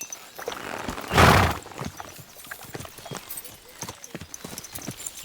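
Rhythmic horse hooves clip-clopping in the video game Kingdom Come Deliverance 2, a steady walking gait with one loud burst early on, while someone talks over the hoofbeats.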